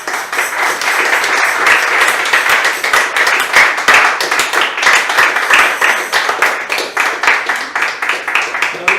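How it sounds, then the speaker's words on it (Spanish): A church congregation claps loudly and continuously for the Lord, with a slightly rhythmic pulse running through the crowd's applause. "Dile un aplauso al Señor"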